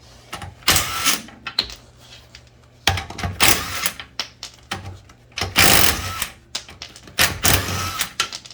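An impact wrench works the wheel nuts off a Volkswagen Beetle during a rear brake replacement, firing in loud, repeated rattling bursts separated by short pauses, with no talking.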